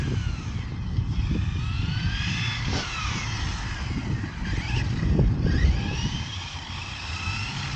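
SNRC S86 RC car motor under partial throttle, a whining, rising and falling buzz heard at moderate distance over wheel and ground noise, swelling briefly partway through.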